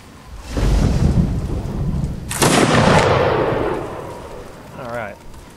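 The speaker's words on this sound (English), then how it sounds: "Good volleys." Musket volleys from a line of Napoleonic-era infantry in Mount and Blade: Napoleonic Wars, two heavy booming salvos with rolling, rumbling tails, the second louder and longer, with a brief voice at the end.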